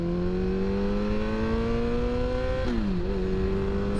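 A motorcycle accelerates hard in first gear, its engine whine climbing steadily, then the pitch briefly dips as it shifts into second and starts rising again. The engine is loud and continuous, with no talk.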